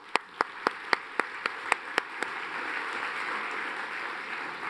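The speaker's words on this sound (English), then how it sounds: "Round of applause for the mayor." A university event audience breaks into applause for the mayor: a string of about nine sharp, evenly spaced claps up front, then a softer, diffuse wash of crowd clapping continues to the end.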